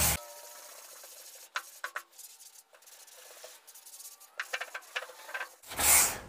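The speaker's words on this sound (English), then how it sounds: "I'm not pressing, I'm letting the block and the sandpaper do the work." Sanding block with sandpaper rubbing over body filler on a small car dent repair, soft scratchy strokes in short bursts and pauses, close and fairly quiet, ending in a louder brief rush.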